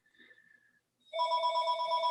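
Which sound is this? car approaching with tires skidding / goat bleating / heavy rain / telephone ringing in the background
telephone ringing in the background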